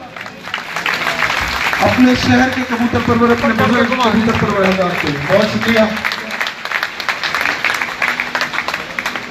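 An audience at a pigeon fanciers' gathering in Sialkot stands and applauds, a dense, steady clapping wash running the whole time beneath someone speaking into a microphone.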